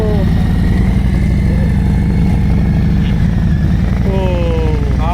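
A Harley-Davidson motorcycle engine runs loud and close with a steady, throbbing idle and a pulsing low rumble, while faint higher tones slide in near the end.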